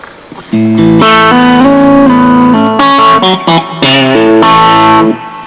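An electric guitar is driven through a vintage tube-style distortion pedal with treble off and mid low, loud crunchy held chords and short riffs with brief gaps between phrases, no voices.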